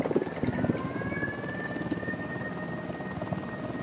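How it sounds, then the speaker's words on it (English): A helicopter in the video game Ghost Recon Wildlands approaches with steady rhythmic rotor chop and a droning turbine whine, loud and sustained, with no talk over it. "Chopper incoming."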